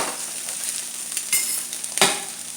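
Eggs fry in a hot pan with a steady, close sizzle and crackle, and two sharper pops and spits stand out in the middle and near the end.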